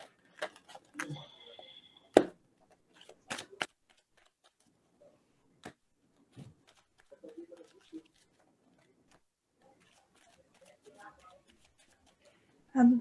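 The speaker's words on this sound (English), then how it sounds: "I start shuffling now." Tarot cards are shuffled by hand during a live reading, producing scattered soft clicks and sharper snaps at irregular intervals, quiet and close, with long hushed gaps between.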